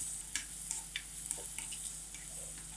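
Onions fry quietly in a pan for jonna ravva upma, a soft low sizzle broken by light scraping stirs and small clicks at a steady pace.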